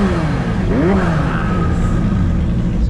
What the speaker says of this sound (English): Ferrari's now starting.